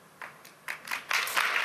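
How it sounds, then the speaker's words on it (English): Applause from a conference audience at Davos, starting with a few scattered claps and swelling into broader, steadier clapping from a crowd heard at a moderate distance. "I love the applause."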